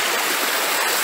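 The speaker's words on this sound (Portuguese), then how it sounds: "Água aqui, na correnteza da água" Steady river current rushing near a forest waterfall, a dense continuous wash of water noise, close and loud with no break.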